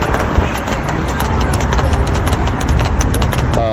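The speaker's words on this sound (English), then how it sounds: "Horse loose on the highway." A loose horse trots along the I-95 highway in Philadelphia, its steady clip-clop of hooves running continuously through loud broadband road and traffic noise, with a voice faintly present.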